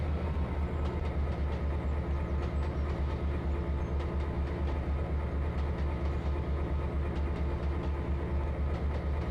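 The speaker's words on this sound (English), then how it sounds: "Let the train pick up its own," A simulated train rolls downgrade in Trainz Railroad Simulator 2022, a steady low rumbling drone with faint rhythmic wheel clatter, continuous and even throughout, with no talk.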